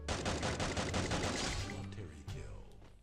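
AN94 rifle fire in the Free Fire video game rattles out in fast, evenly spaced shots, loud and dense, before tapering into scattered fainter impacts.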